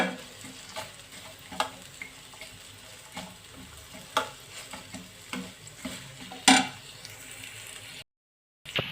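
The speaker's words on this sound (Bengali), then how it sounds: "তো এটা আমার ভাজা হচ্ছে" Dried fish with onion, chili and garlic fry on medium heat with a low constant sizzle, punctuated by regular sharp scrapes and taps of a stirring spoon against the pan, close and fairly quiet, ending in a short silence.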